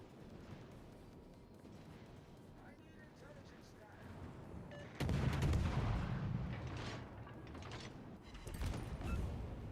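Warship guns firing in World of Warships: Legends, a sudden heavy boom halfway through followed by rumbling and a second burst near the end, over quieter mechanical background hum and a talking voice.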